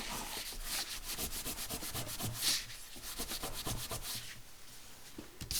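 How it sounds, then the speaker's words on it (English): Glued paper in a handmade mini album is burnished down with quick, close back-and-forth rubbing strokes, a soft rhythmic scraping repeated many times at low volume with no talking. "Burnish it down."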